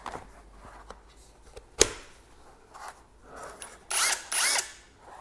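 A 1/2-inch cordless impact wrench whirs in two short, sharp bursts near the end, following a single click and some quiet handling noise. No one speaks.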